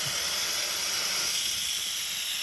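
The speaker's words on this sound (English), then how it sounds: "You guys can see all that steam coming out." Steady, loud steam hiss from an Instant Pot's pressure release valve venting after cooking a chuck roast, a continuous broadband rush that holds level throughout with no talking.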